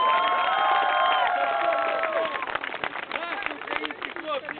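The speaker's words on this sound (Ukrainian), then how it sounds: "Молодець, аплодуємо, брат!" A festival crowd at a Ukrainian kobzar storytelling performance cheers and whoops loudly, the roar fading into scattered shouts and chatter; a voice talks over it.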